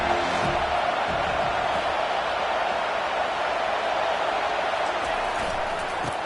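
A stadium crowd at a college football game, Oklahoma at USC, roars steadily as a dense, continuous wash of cheering that holds at full strength throughout with no break.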